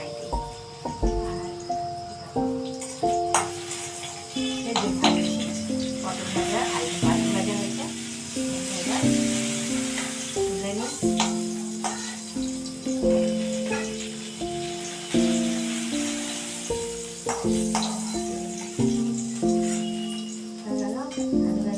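Pointed gourd (potol) slices fry in a pan for a home-cooked birthday meal, a steady sizzling hiss running beneath louder background music throughout.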